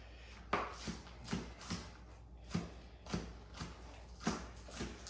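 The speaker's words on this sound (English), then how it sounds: "we're going to slice this" A knife slices through cabbage on a board in about eight crisp, fairly evenly spaced chops, close and moderately quiet, with no talk over them.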